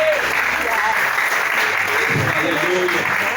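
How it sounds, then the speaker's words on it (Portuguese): A church congregation applauds at a sermon about Jonah, a loud, dense wash of clapping that fills the whole stretch steadily, with a few voices faintly mixed in. "Alguém pode aplaudir mais forte por este Deus?"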